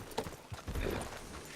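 Horse hooves clip-clop at a steady gait in Red Dead Redemption 2 gameplay, moderately close and somewhat muffled, with no talk over them.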